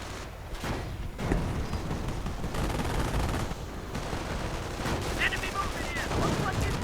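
Dense gunfire and artillery rumble from a World War II strategy video game, with overlapping shots and heavy thuds rolling continuously without pause.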